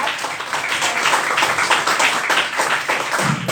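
Close, steady clapping from a seminar audience for a keynote speaker, a dense run of palm claps at even loudness throughout.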